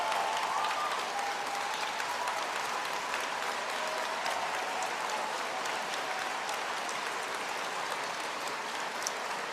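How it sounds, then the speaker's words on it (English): A crowd applauds at a Liberal caucus holiday gathering, dense steady clapping filling the room for nearly ten seconds without a break. "how about a massive round of applause for someone who gave her farewell speech in the House tonight, Carolyn Bennett."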